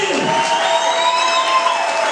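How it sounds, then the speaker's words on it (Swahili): Crowd at an evangelistic sermon about Jesus after the resurrection clapping and cheering together, a loud, dense wash of hands and voices filling the whole short stretch. "Ungepiga makofi."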